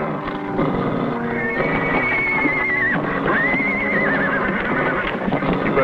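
A horse neighs loudly with a rising, wavering whinny, twice in succession, over a busy background with hoof clatter.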